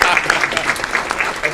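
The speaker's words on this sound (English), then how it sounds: "Let's give him a round of applause." Brief burst of applause from the audience at an Aurora city council meeting, quick overlapping claps, close and fairly loud, with voices mixed in under the clapping.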